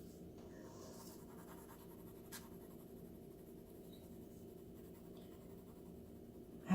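Caran d'Ache Supracolor watercolor pencil used dry on paper, giving a faint, steady scratching of pencil strokes under low room hiss, with a louder bump at the very end.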